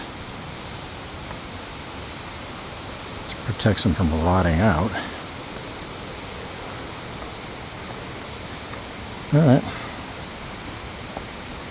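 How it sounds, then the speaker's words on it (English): A steady broadband rush of a distant waterfall near a railroad trestle in Norwich, Connecticut, continuous and even in the background while someone talks briefly over it. "You can hear the waterfall in the background."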